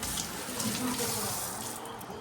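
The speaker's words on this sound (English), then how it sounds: "Wash your hands." Tap water runs steadily into a sink while hands are washed, a continuous close splashing rush with no pauses.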